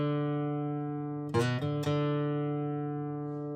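An electric guitar plays part of a solo: a long sustained note, a quick burst of picked and bent notes, then another note left ringing and slowly fading, played alone.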